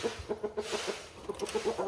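A rooster clucks in a quick series of short, rhythmic throaty calls, fairly close but moderately quiet, with a faint farmyard background and no speech.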